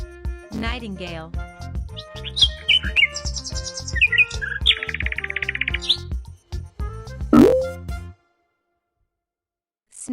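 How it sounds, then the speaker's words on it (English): Nightingale song heard as bright chirps and rapid warbling trills woven through an upbeat children's backing tune, fairly close and clear, before the sound cuts to near silence at the end. "Nightingale."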